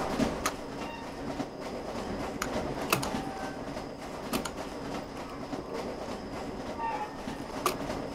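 A train rolls along in a Roblox game, with faint rhythmic clacking wheels and scattered sharp knocks over a low, steady rumble throughout.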